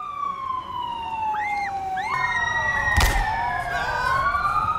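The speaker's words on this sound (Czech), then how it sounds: "Ostravou se ozývají sirény a složky IZS se sjíždějí k jedinému místu" Emergency vehicle sirens wailing through Ostrava streets, several overlapping rising and falling tones close by, with a sharp thump midway and steady traffic noise underneath.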